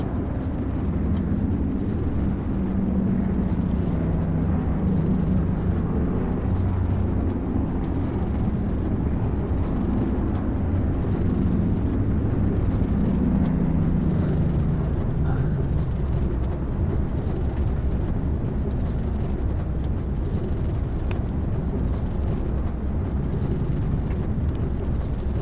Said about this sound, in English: Okay, taxiing out to the end of the runway.